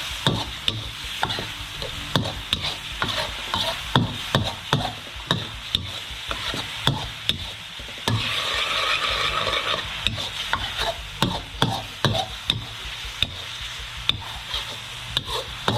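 Squid is stir-fried in a hot pan over raised heat, with repeated rhythmic scraping strokes of a spatula over a constant sizzle, close and clear.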